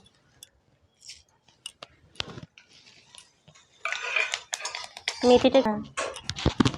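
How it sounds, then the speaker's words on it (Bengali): Bay leaves, dried chillies and fenugreek hit hot oil for a Rajasthani-style sweet pumpkin curry. A few clinks of utensils come first, then a loud, crackling sizzle that spits and pops for several seconds. "তেলটা আমাদের গরম হয়ে গেছে, এর মধ্যে এখন দিয়ে দেব দুটো তেজপাতা, দুটো শুকনো লঙ্কা আর একটু মেথি"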